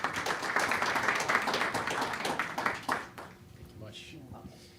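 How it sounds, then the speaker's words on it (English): Audience applause for speaker John Sinopoli at an advanced manufacturing event, moderate clapping for about three seconds that fades out, leaving quiet room sound and faint voices. "A round of applause for John, please."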